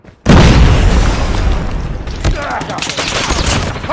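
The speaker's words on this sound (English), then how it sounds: "Grenade!" A grenade blasts in a multiplayer shooter video game, a sudden loud boom that cuts in sharply and rumbles on as a dense, roaring burst of gunfire and explosions for several seconds.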